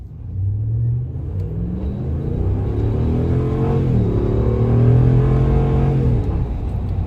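A 2017 Ram 1500 with its stock intake idles and revs, a steady low engine rumble that swells and holds with a rising tone before easing back, close and loud with no talk.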